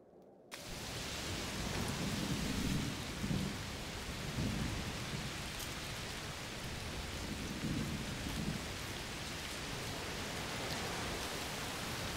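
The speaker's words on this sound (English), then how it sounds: "Oh, it's raining a lot? Yes, must be a heat storm." Steady heavy rain pours down with low rolling rumbles of thunder surging now and then, a continuous dense wash of storm noise in the video game A Plague Tale: Requiem.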